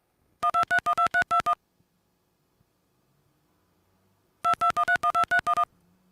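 Two quick bursts of telephone touch-tone dialing, each a rapid string of about eight beeps, separated by several seconds of near silence, clear and close.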